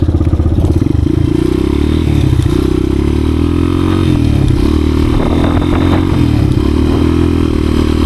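A 1986 Honda XR200R motorcycle being ridden after an idle fix, its engine loud and close throughout with a steady chugging drone, shifting revs and some rattling clatter.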